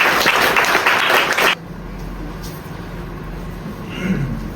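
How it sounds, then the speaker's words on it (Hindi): An audience applauds loudly after a student stage performance of the Hindi comedy play Gadhe Ki Baarat. The dense clapping lasts about a second and a half, then stops abruptly and leaves quiet room tone. "तो जोरदार तालियां उनके लिए भी।"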